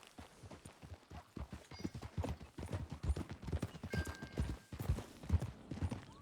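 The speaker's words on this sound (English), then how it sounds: "That new horse?" Horse hooves clip-clop in a steady, close rhythm in Red Dead Redemption 2, running throughout with moderate loudness and no talk over them.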